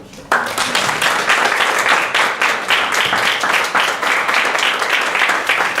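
An audience at a lecture on territory and power breaks into sustained applause, dense steady clapping starting abruptly and continuing loud and even throughout.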